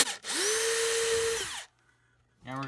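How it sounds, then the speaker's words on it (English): A power drill countersinks a screw hole in pallet wood for a mailbox, one loud sustained whine of about a second and a half with a rising and falling pitch, then a brief pause before a short second burst starts. "Now we can go ahead and countersink the hole so the screw will fit in a little bit better."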